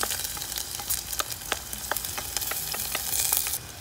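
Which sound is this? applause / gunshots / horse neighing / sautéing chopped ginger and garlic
sautéing chopped ginger and garlic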